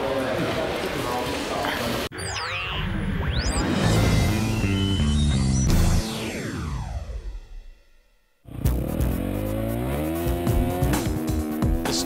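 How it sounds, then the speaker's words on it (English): A motocross bike revs hard on an onboard lap at the Kegums track in Latvia, the engine screaming up and down through shifts and a loud rush of wind, nearly dying out for a moment before roaring back, with voices over it. "back to the track and back to the motocross with an onboard lap with Matiss Karro."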